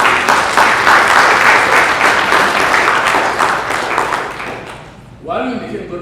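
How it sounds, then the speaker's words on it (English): Full applause from a lecture audience, loud and dense, fading over about five seconds before a speaker's voice resumes. "I wanted just to give them a round of applause because they're doing good work"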